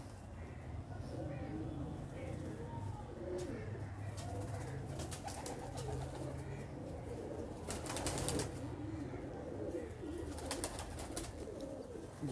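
Pigeons in a loft, soft rolling coos layered close together over a low background murmur, with bursts of flapping wings now and then; a voice talks intermittently underneath.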